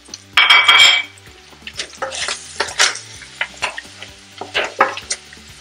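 Beef tripe with oregano, basil, cumin and pepper being stirred in a pot, a run of clear metallic scrapes and clatters of a spoon against the pot over a light sizzle, close and alone without speech.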